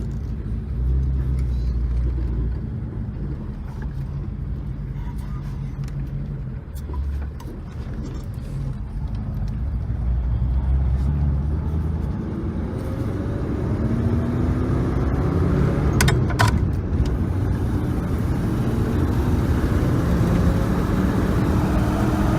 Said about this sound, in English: We're going to take it out and we'll run it through the gears and activate the factory overdrive.